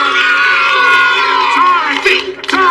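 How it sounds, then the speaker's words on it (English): A crowd of kids cheers and whoops loudly for Dorothy at a stage event in a sitcom scene, a dense, continuous roar of voices with some shouting near the end. "Let's give Dorothy a great big ha-ha cheer!"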